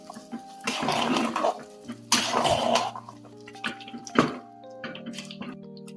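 Tamarind juice is poured into a pot of bisibele bath in a few splashy, gurgling bursts of liquid, close by, with short pauses and a couple of light drips between pours.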